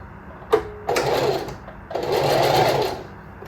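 A sewing machine backstitches fabric for a scrub hat, a sharp click followed by two steady bursts of motor whir and needle chatter, close and loud, with a short pause between them.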